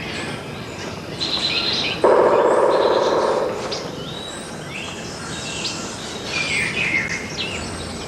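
Curassow calls in the Venezuelan tepui jungle: a loud, dense burst of calling about two seconds in, lasting over a second, amid a busy chorus of other chirping birds and insects.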